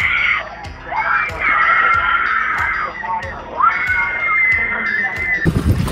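A crowd screams and cheers loudly and continuously at the finish of a harness race, with high sustained shouting over a busy din.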